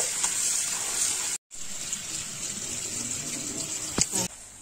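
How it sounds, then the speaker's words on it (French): Cold tap water runs steadily over cooked rice vermicelli in a strainer, a close continuous splashing gush that breaks off briefly once and then resumes until it stops near the end, with no voices. "On va la rincer avec de l'eau froide."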